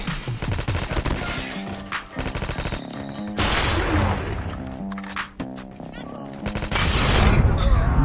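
AK-117 gunfire in a mobile shooter game, loud rapid automatic bursts stuttering in repeated volleys with short gaps, the rattling shots continuing almost throughout.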